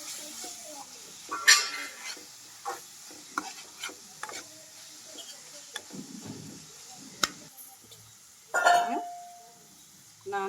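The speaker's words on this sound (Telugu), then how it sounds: "అల్లం వెల్లుల్లి పేస్ట్ వేస్తున్నామండి, వెల్లుల్లి పేస్ట్ వేస్తున్నామండి." Ginger garlic paste is stirred in a frying pan for a snail and chana dal curry, with a low sizzle, scattered utensil scrapes and clinks, and a sharper burst of sizzling near the end.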